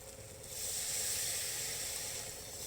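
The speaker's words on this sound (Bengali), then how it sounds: "এইবার জল দিয়ে দেবেন।" Water poured into a hot pan of sweetened mango chutney gives a soft, steady hiss of steam that swells after a moment and then eases slightly, fairly faint and with no talking.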